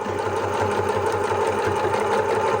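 A sewing machine backstitches a seam on an apron, a steady rapid mechanical whir with an even stitching rhythm, close and alone.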